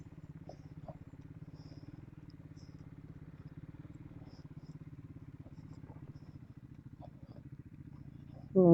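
A BMW 310 motorcycle idles or putters at low revs with a steady, faint throb on an off-road hill track, some light clatter and a louder burst right at the end.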